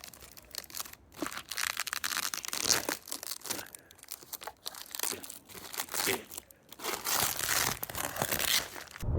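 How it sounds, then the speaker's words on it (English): Plastic wrapping is torn and crumpled off a new Tesla Model 3 in bursts of loud, close crinkling and tearing with short pauses between. "Unwrapping my new Tesla."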